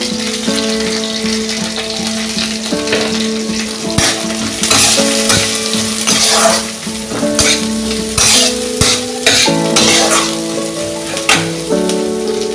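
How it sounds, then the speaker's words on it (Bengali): Chopped onion hits a pan of caramelised sugar for rajma curry, frying with a steady loud sizzle and stirring scrapes throughout, under continuous background music. "চিনিটা ভাজা হয়ে গেছে এবার পেঁয়াজ কুচিটা দুটো পেঁয়াজটা আমি মিহি করে কেটে রাখছিলাম পেঁয়াজ কুচিটা দিয়ে দিলাম"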